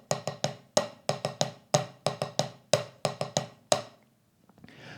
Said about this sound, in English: And then the flam drag would sound like this.